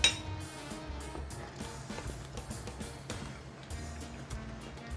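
Glasses clink together in a toast at a kitchen table, with a sharp ring at the start followed by scattered tableware clatter and light background room noise.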